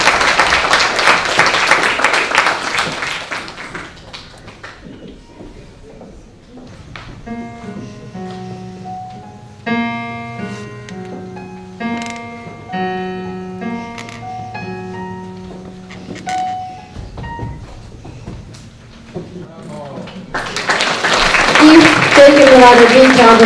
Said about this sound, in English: So please give those beautiful kids a big round of applause